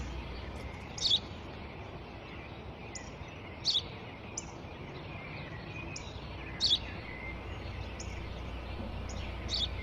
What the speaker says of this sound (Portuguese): Eu já te disse, pai, é um pássaro.